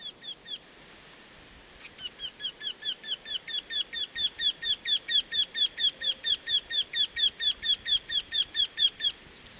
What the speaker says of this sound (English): The Eurasian wryneck.